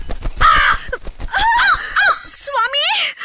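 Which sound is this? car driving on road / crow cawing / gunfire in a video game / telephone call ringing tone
crow cawing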